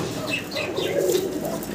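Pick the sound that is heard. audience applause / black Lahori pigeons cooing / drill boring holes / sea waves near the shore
black Lahori pigeons cooing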